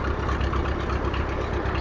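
An International Junior tractor engine runs at a steady low idle and chugs along without a break. The sound is fairly loud and has no talk over it.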